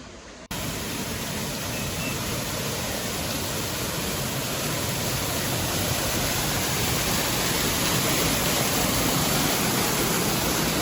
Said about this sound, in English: There's a lot of water coming down.